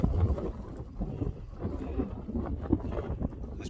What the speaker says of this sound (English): I know it's windy, it might be a job to hear me